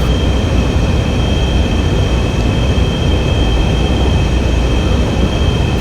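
An F/A-18E jet taxiing in a flight simulator, its engines a steady, loud, unbroken whine and rumble with constant high tones, with no talk over it.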